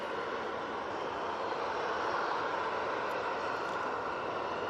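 Steady broadband roar of a jet aircraft engine at Manchester Airport, a continuous rushing hiss that holds at an even level throughout, heard from a distance with no voices.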